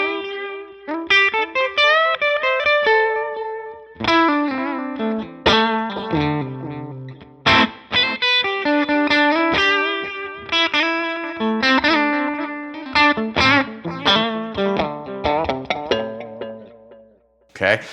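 Electric guitar played through a Line 6 Helix multi-effects unit with delay added: distorted melodic phrases and chords whose notes trail into echoing repeats, loud and continuous, fading at the end.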